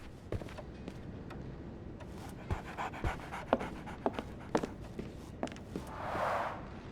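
Barnes the dog panting in Sherlock Holmes The Awakened, rapid rhythmic breathing close by with scattered footsteps and clicks over a quiet ambient background.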